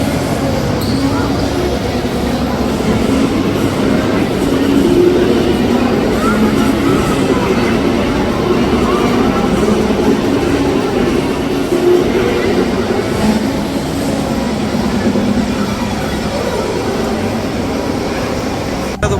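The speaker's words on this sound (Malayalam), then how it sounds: "തിരിച്ച് മെട്രോക്ക് കയറിയിട്ട് പോകണം" Steady low rumble and rolling rattle inside a Dubai Metro train while riding, a continuous interior hum with faint voices in the background.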